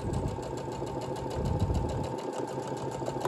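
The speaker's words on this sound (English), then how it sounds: "pull my fabric nice and tight, and start sewing my straight stitch" A sewing machine runs steadily through a straight stitch on pulled-taut fabric for PJ bottoms, crossing serged seams, with a continuous close mechanical whir and rapid needle rhythm, no talking.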